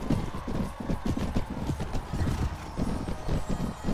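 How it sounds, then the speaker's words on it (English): Horses gallop in the Mount & Blade: Warband video game, a dense, loud rumble of many hoofbeats from a cavalry charge with an occasional neigh. "Got the whole cavalry, every last horse in the Stormlands"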